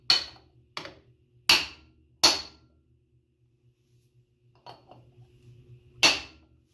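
Hammer strikes driving a dust cap onto a Chevy S10 front wheel hub through a socket, about five sharp metallic blows in two bursts, close and loud with quiet gaps between.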